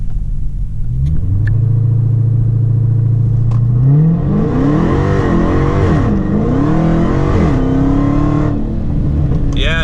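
A Dodge Hellcat on cold, overinflated tires launches hard. A loud, close engine roar climbs in pitch through the run, with the revs rising and dipping as the tires spin.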